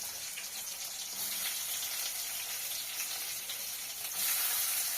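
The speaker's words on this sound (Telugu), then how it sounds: "నూనె అయితే వేడైపోయింది. ఫస్ట్ అయితే ఉల్లిపాయ ముక్కలు అయితే వేసేసుకుంటున్నా." Onion pieces dropped into hot oil fry with a steady, close crackling sizzle that swells slightly in places, no voices present.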